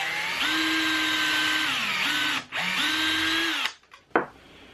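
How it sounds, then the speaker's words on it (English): Power drill pre-drilling two screw holes in wood, with two sustained whirring runs of steady pitch, each slowing at the end, followed by a short quiet pause and a clack. "I'm going to pre-drill 2 holes here for screws."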